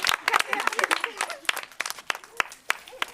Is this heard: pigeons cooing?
no